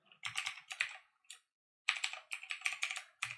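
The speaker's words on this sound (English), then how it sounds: "So I'm going to go ahead and type that in one more time." A password typed on a computer keyboard, a close, crisp run of individual key clicks in two quick bursts split by a short silent pause.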